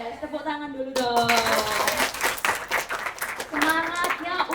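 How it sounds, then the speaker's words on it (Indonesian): A class of students claps hands together in a burst of sharp claps, mixed with children's voices and a teacher talking over them. "Tepuk tangan dulu dong."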